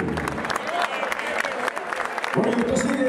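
Applause from a concert audience for performers at a retro music show in Puerto La Cruz, dense crowd clapping throughout, with a voice coming in toward the end.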